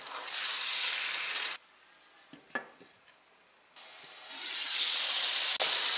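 Tomatoes with cumin frying in a pan, a close, steady hissing sizzle that fades out for a couple of seconds, with a few clinks, then returns and grows louder.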